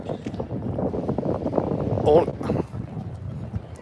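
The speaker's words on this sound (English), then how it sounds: "Bear with the wind as well, a little breezy." Steady breezy wind buffets a microphone outdoors on the street at a St. Patrick's Day parade in Providence, Rhode Island, a low rumbling roar heard under a person talking.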